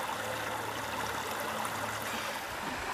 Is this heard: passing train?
no